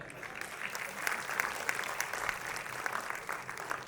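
Steady applause from an audience at a stage event, a fairly distant, even wash of many hands clapping that holds at the same level throughout.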